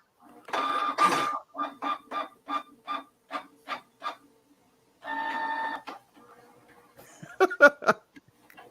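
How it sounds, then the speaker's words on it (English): A dot matrix printer chatters in rapid bursts, a string of short evenly spaced rasping strokes followed by a longer grinding run, loud and close, with brief laughter near the end. "Sound like a dot matrix printer."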